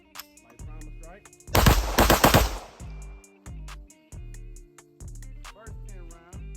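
A Gen 3 Glock clone pistol fired at a shooting range, with a burst of rapid, very loud close shots followed by a string of single sharp reports at a steady, even rhythm.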